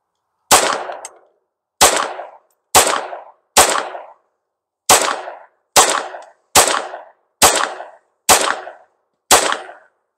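A Bersa handgun fires CCI standard velocity rounds, ten sharp, loud shots at an even, moderately quick pace, each cracking and ringing off briefly before silence, with a slightly longer pause after the fourth.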